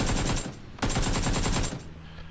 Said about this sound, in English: Now I hear again some fire from that direction by that tree.